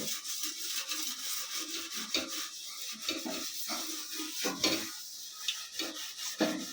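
Scrubbing a surface clean with salt and turmeric powder: a steady, close gritty rubbing and scraping, continuous with small irregular bursts, no voices.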